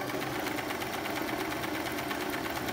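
A Singer Piko sewing machine stitches a decorative zigzag pattern at a steady motor speed, producing a loud, continuous whirring hum with a fast rhythmic needle chatter running throughout.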